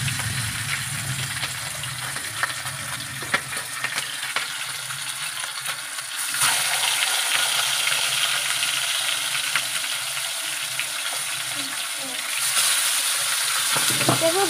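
Fish coated in spices fries in hot oil, a steady close sizzle and crackle that gets louder partway through, with no talking over it.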